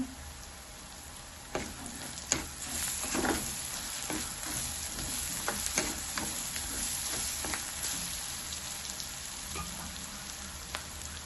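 Onion and ginger-garlic paste sauté in a pan for a vegetarian fish gravy, with a constant hissing sizzle broken by occasional sharp scrapes and taps of a stirring utensil.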